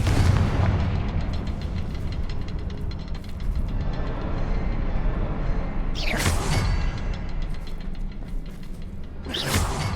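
Confringo spell explosions in Hogwarts Legacy: a constant rumbling roar of battle with two sharp, bright blasts bursting out near the middle and the end.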